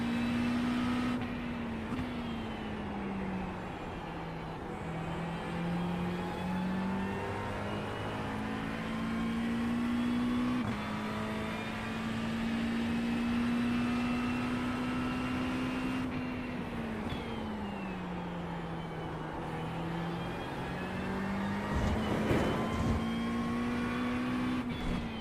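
A Ferrari race car engine drones steadily in an IMSA racing game, its pitch rising and falling through gear changes and corners, moderately loud and continuous with no talking.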